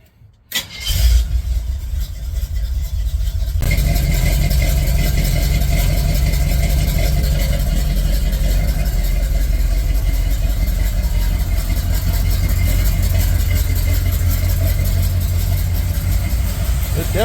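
A Chevy C10 pickup truck engine cranks and starts after a brief silence, then settles into a loud, steady idle with a deep rumbling exhaust.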